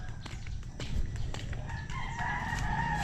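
A native chicken rooster crows over steady outdoor background noise, the call rising and holding toward the end with some faint clucking around it.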